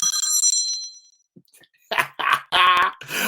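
A phone rings loudly, opening with a sustained bright tone, then a short pause, then a rapid series of clanging bell-like ring bursts close to the listener.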